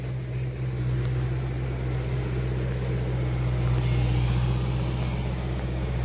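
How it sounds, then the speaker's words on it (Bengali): Vehicles go by on a rural road among trees in the Sundarbans with a heavy, continuous engine rumble. The drone is steady and fairly loud, with no voices. "গাড়িগুলো যখন চলে একটা বিকট শব্দ"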